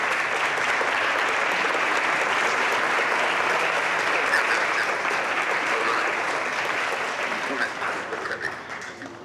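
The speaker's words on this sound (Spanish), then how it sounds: "Pues yo creo que le podemos hacer llegar un fuerte aplauso a Luis." An audience at a university panel gives a speaker a strong, sustained round of applause, steady dense clapping for several seconds that tapers slightly at the end.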